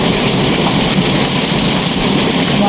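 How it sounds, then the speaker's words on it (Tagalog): Heavy rain pouring down steadily, a dense, loud, even hiss that fills the whole stretch without a break. "Lumalakas ang ulan guys."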